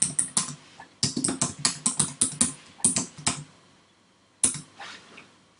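Burst of keystrokes on a computer keyboard, a quick run of clicks, a short pause, then a few more taps near the end, all close and crisp with no talk.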